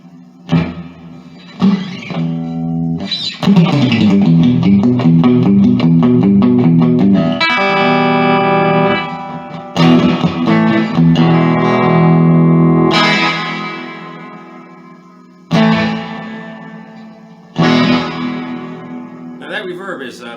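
Electric guitar through an Artist TweedTone20R 20-watt tube combo amplifier with reverb at a moderate setting, loud strummed chords and picked notes ringing out with a spacious reverberant tail between bursts of playing.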